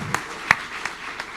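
Scattered audience applause at a forum on energy and development, a few distinct claps spaced out and fading rather than a full ovation, moderately distant in a hall.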